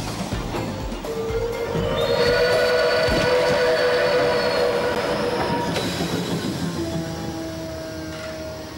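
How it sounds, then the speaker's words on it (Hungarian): A train rolls past steadily with a long sustained horn tone and squealing wheels, loud and near, fading slightly toward the end. "Itt a 2309-es vonat."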